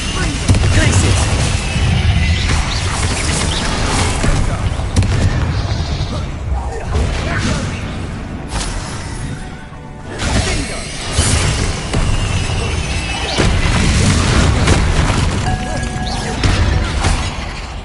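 Bombarda and Confringo spell explosions in Hogwarts Legacy come as dense, repeated booms and crashing impacts layered with game music and effects, while a voice calls out between the blasts.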